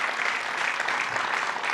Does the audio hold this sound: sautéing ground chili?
no